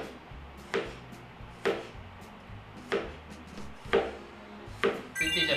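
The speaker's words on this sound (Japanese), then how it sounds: "きゅうりを千切りにするのと白髪ネギ作っていきます" A kitchen knife julienning cucumber on a cutting board, heard as several distinct sharp knocks against the board spaced about a second apart, with quieter scraping in between and no talking.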